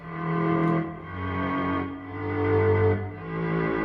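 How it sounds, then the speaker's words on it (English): A gritty, distorted synth brass from the CHOREO plugin plays sustained, swelling notes with a thick buzzy tone, rising and falling in a slow melodic phrase for a krump beat. "this distorted brass that I came up with in the CHOREO plugin"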